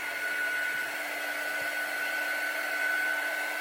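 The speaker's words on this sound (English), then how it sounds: "We're just going to dry it real quick to speed it up" Dryer blowing steadily on a painted craft piece to dry the paint, a continuous close whirring hum that stays even throughout with no talk.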